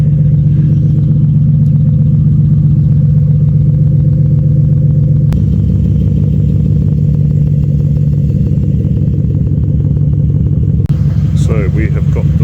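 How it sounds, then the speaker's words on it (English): A Toyota Soarer with a 1UZ V8 idles through Black Widow mufflers, giving a loud, steady, rowdy drone with deep rumbling that holds constant throughout, with a slight shift in tone partway and near the end. "hopefully you can hear me okay because the car's idling right now"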